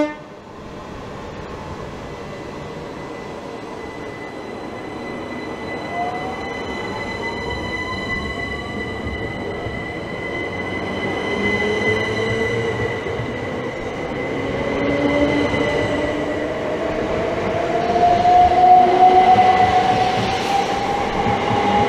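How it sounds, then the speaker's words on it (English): Electric train pulling out of Teynham station, a steady rumble of wheels on rail that builds over time, with squealing wheel tones and long high whines rising toward the end. "And it's now departing off its next stop of Sittingbourne."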